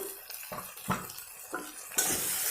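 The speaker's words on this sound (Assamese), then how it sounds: "ঔটেঙাখিনি মই খুব ধুনীয়াকৈ ভাজ খাবলৈ দিম" Elephant apple pieces fry with salt and turmeric in a pan, soft sizzling broken by several scraping stirs of a spatula, then a louder burst of hiss near the end.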